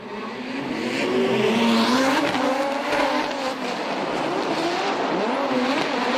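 Drift race cars at an RDS GP top 16 battle in Vladivostok, engines roaring and rising in pitch while tires screech continuously, a loud sustained mix with shifting revs and no talk.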